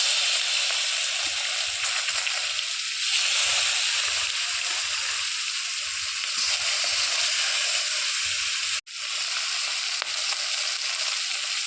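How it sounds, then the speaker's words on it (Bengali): Koi fish sizzling in hot oil in a pan, a steady close crackle and hiss of frying that runs throughout with small splattering bursts, no talk over it. "তেল গরম হয়ে গেছে, এরপরে মাছগুলো ছেড়ে দেবো। প্রথমে দিয়ে দেবো কই মাছ।"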